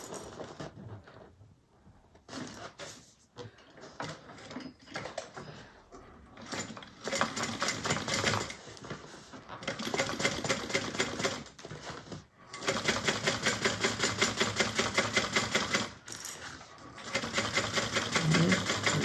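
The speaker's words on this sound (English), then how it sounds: "we're top stitching on the base piece." A sewing machine top stitches across the base seam of a Mabella bag, running in bursts of rapid, steady needle clatter separated by short pauses and handling noises, growing louder and more continuous in the second half.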